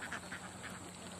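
Several herded ducks in a rice paddy quack in short nasal bursts, a few calls spaced closely over a steady background hum, moderately near.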